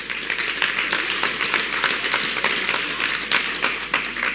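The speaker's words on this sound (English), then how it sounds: "give every good parent a clap." Audience clapping at a church talk, a steady, moderately loud patter of many hands that carries on evenly for several seconds.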